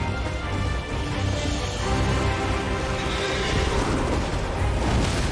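A horse whinnies in the video game Elden Ring, a loud, drawn-out neigh over dense game sounds and low rumbling, with no speech over it.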